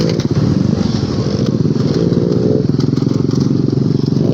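A motorcycle rides a rough, muddy mountain road in Mindanao, its engine droning loud and steady throughout, with faint clatter and knocks from the bumpy surface.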